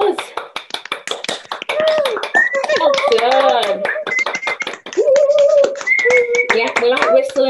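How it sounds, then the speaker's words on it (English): Participants in an online music session clap for themselves, a scattered run of hand claps mixed with lively overlapping voices and some singing or whistling-like tones. "give yourselves a big round of applause."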